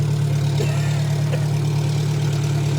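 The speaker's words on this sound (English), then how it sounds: "Obviously the exhaust might have a small hole." A car engine idles steadily with a loud, holed exhaust, a constant low rumbling drone close by, with no talking over it.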